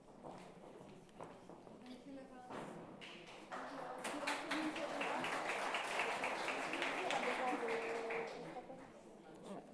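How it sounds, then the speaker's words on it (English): Audience applause at an afternoon session of a climate finance forum, a sustained spread of clapping swelling louder midway and holding steady before easing slightly at the end. "Thank you also for the big applause"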